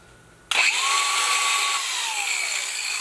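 An angle grinder bites into a Subaru GC8 rally car spoiler, starting abruptly after a quiet moment into a loud, steady high-pitched whine as the disc cuts, close up.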